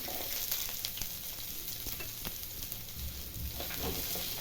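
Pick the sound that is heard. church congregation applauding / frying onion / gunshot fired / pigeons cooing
frying onion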